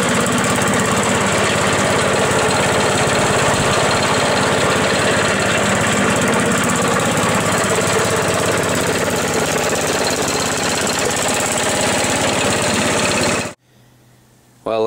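A snowblower with a 12-horsepower engine runs in the cold before a snowstorm, a loud, steady, rattling engine drone held close for about thirteen seconds before cutting off abruptly, with no talk over it.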